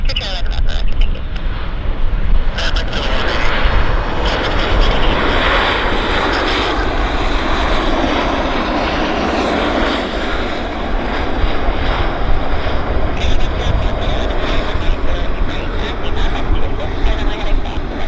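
Airliner engines roar steadily and loudly for the whole stretch at Vancouver airport, a continuous broadband rumble and whine of aircraft on or near the runway, with air traffic control radio chatter faintly underneath.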